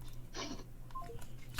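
A short electronic phone tone beeps twice amid faint room noise, brief and moderately close, with a few small clicks in between and no voices.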